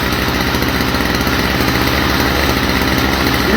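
A Stihl FS45 string trimmer engine runs at a steady, buzzing idle, loud and close, with an even rapid firing rhythm throughout and nothing else heard.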